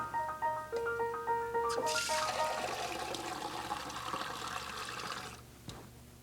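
Water poured into a candy kettle holding sugar and corn syrup for making Christmas candy canes. A run of short tonal notes comes first, then a gushing pour that fills several seconds and tapers off.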